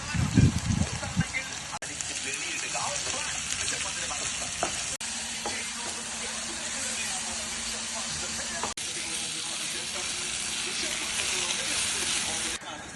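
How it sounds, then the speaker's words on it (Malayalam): Chopped onion with salt sautés in a hot pan for an egg curry, giving a steady, close sizzle and hiss with occasional stirring clatter throughout. "അതിലേക്ക് നമ്മൾ നേരത്തെ അരിഞ്ഞു വെച്ച സവാള, കൂടെ കുറച്ച് ഉപ്പും കൂടി ഇട്ട് നന്നായിട്ട് വഴറ്റിയെടുക്കുക"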